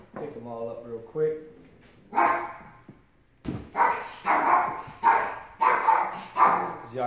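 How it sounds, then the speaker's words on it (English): A dog barks repeatedly in the background, about six loud, evenly spaced barks after a short stretch of whining, fairly close and with no talking. "the dog barking in the background"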